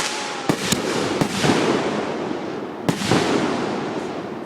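Fireworks going off outdoors at night: several sharp cracking bangs over a constant crackling, fizzing rumble of bursts, loud and fairly close, with no talk.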